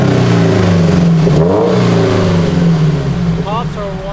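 A Toyota 86/Subaru BRZ engine fitted with a UEL catted header exhaust revs up and down loudly and close, its tone rising, dipping and climbing again, and a brief crackle near the end.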